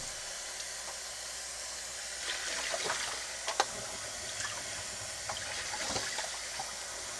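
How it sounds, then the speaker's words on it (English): Running water rinses out a Clever coffee dripper, a low, continuous hiss of flowing water with occasional splashes and light clinks of handling, fairly quiet and close. "And of course, rinse it out real good."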